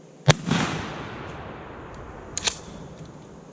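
A Remington 870 pump shotgun fires a turkey load at a 40-yard patterning target outdoors: one sharp loud blast followed by a fading rumble, then two faint clicks later.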